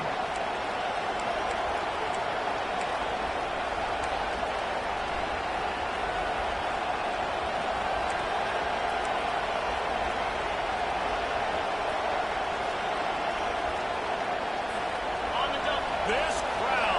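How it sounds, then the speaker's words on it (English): A loud stadium crowd at a Miami football game roars steadily and without a break, a dense wall of cheering that holds at the same level from start to finish. "This crowd, full throat, splitting the eardrums"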